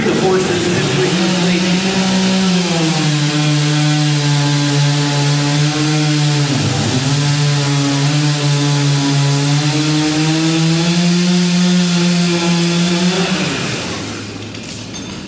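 A chainsaw cuts logs at an outdoor logging demonstration, its loud, steady engine whine running continuously with one brief dip in pitch midway before easing off near the end.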